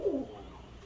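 A single short, soft coo from a domestic pigeon of mixed breed in a home loft, low and throaty, sounding close by and then fading into quiet room tone.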